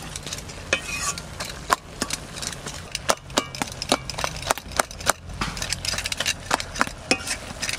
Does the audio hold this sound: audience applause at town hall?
no